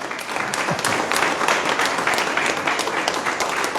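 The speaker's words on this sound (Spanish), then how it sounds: "Vamos a darle un fuerte aplauso a Jesús" Congregation applauding for Jesus at a Catholic church service, a steady wash of many hands clapping, fairly loud and sustained throughout with no talk over it.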